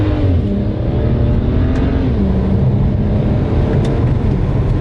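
A BMW 135i engine with a misfire problem roars at full throttle, a loud, continuous, droning rev held steady for several seconds with no voices over it.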